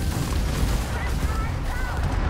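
Missile impacts land during a Starfield space dogfight involving a Daedalus-style ship, heard as a dense rumbling burst of heavy booms, loud and continuous over a couple of seconds with a voice faintly underneath.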